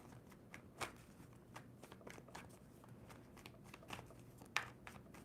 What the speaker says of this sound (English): Two more shuffles for Libra.